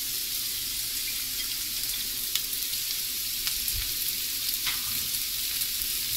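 Vegetables sautéing in a pan for Schezwan fried rice, a steady soft sizzle with faint stirring scrapes, close and even throughout with no voices.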